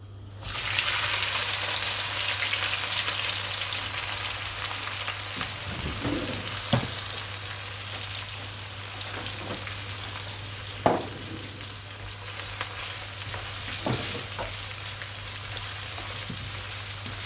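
Three onions go into hot oil with cumin seeds already toasting for a chicken masala handi, raising a steady, fairly quiet sizzle that carries on under occasional stirring scrapes.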